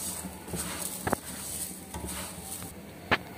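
Sugar being stirred into semolina halwa in a metal pot, a soft continuous scraping and shuffling with a couple of sharp spoon clinks against the side, quiet and close.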